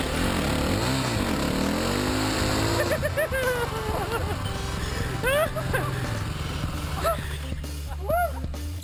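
A lightweight KTM enduro motorcycle being manoeuvred around, its engine revving up and down in short irregular bursts, fairly close, with people talking over it.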